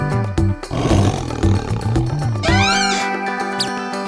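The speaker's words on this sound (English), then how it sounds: "tiger" A big cat roars loudly and close, a deep rumbling growl over a background of bouncy music.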